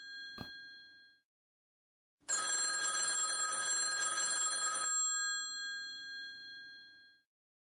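A telephone rings in the video game Z.A.T.O.: a bright metallic bell strike with a ringing decay, then after a pause a sustained rattling electric ring lasting a few seconds that fades into a lingering hum.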